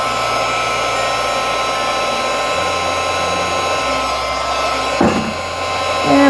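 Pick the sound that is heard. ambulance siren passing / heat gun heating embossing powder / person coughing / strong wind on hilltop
heat gun heating embossing powder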